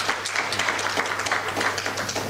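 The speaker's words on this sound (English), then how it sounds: "Another round of applause, ladies and gentlemen." Continuous audience clapping at a conference, many hands beating in a steady, even patter over a low background hum, neither swelling nor fading.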